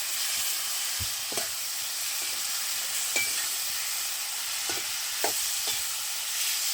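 Breadfruit and masala are stirred in a frying pan, a soft continuous sizzle broken by several sharp scraping and tapping strokes of the spoon against the pan.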